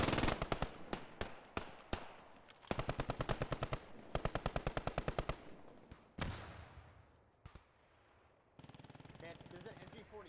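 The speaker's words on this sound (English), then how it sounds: "there's an MG42 like right on the other side of the wall shooting north" MG42 machine gun fire in the Post Scriptum video game, rapid bursts of loud, tightly spaced shots separated by pauses, with a voice talking in between.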